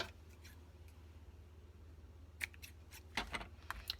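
Scissors snip off extra thread on a handmade card, a few quick close clicks and snips over a quiet room.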